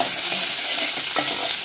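Cumin, fenugreek, curry leaves, onions and green chillies fry in hot oil, giving a steady, dense sizzle with a soft stir partway through, close up and with no voices.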